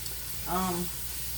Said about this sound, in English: as my bacon's frying